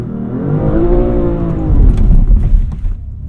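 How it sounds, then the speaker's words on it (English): BMW M2 engine revving hard during a standing burnout attempt, a loud rising rev that swells and holds close by, then breaks into rougher, gritty noise. "To do a burnout, you need to get off of the clutch completely and be on the gas and the brake to do a standing burnout."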